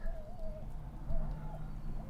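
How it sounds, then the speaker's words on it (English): Noisy birds outside near a parked 1979 Austin Allegro: a few cooing, warbling calls rise over a steady low background hum, moderately close and without speech. "noisy birds"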